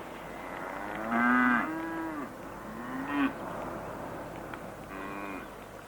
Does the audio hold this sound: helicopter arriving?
no